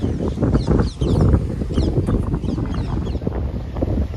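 Steady wind rush and churning sea roar at Uchakotda beach, Gujarat, continuously, with gusty buffeting against the microphone and a few faint voices in the background.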